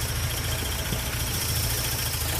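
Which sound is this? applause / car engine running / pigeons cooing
car engine running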